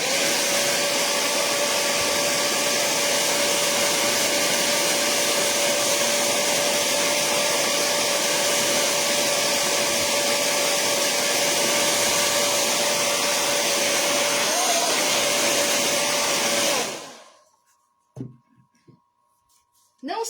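A handheld dryer blows loud and close on a craft piece, a continuous steady whooshing roar for about seventeen seconds that then cuts off, leaving near silence with a few faint small knocks.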